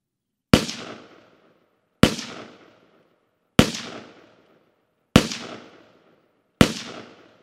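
Five suppressed 5.56 rifle shots from a 16-inch barrel fitted with a Witt Machine Mod 1 suppressor at a range, evenly spaced about 1.5 seconds apart, each a sharp crack with a brief decaying tail and near-silence between.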